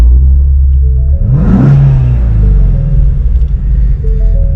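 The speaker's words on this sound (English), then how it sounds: "So I'm going to pull the door around and start it up for you, and we'll let it run for a second." A 2020 Shelby GT350 V8 cranks and fires with a rising roar and a quick rev flare, then settles into a loud, deep, steady idle rumble close by.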